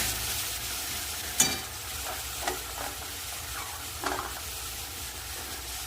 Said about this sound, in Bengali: জিরে আদা আর শুকনো লঙ্কা ভালো করে মশলাটা কষিয়ে নেবো